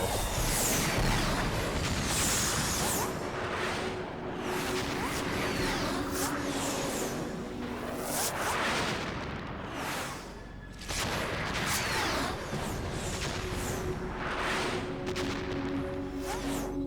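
Gunfire and heavy blasts from the video game Metal Gear Solid 2 pound away in a dense, loud barrage, with crashing impacts and whooshes overlapping almost without pause.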